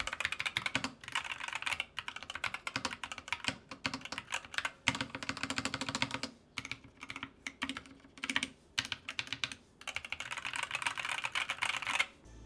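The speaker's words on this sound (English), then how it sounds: "Let's do a little typing test again." Rapid clacking of a Ractous RTK61 mechanical keyboard with pudding keycaps and no desk mat, close and continuous, with brief pauses between bursts of typing.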